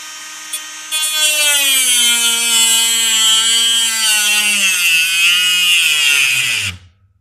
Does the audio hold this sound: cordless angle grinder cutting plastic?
yes